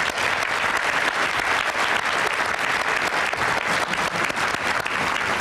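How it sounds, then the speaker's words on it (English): Loud, rousing applause fills a luncheon hall honoring organizations and political leaders, many hands clapping densely and continuously with scattered sharper claps throughout. "rousing round of applause, please."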